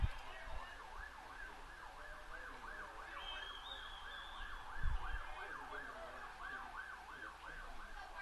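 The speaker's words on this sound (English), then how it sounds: "that's a Forest Service vehicle with sirens and lights" A Forest Service vehicle's siren wails in a steady rising-and-falling cycle, faint and distant, over low outdoor background noise at a college baseball game, with a brief low thump partway through.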